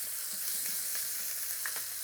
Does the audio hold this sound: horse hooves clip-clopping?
no